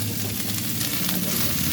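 Chicken chow mein ingredients frying in a pan give off a steady, close sizzle across the whole stretch, with no talk over it.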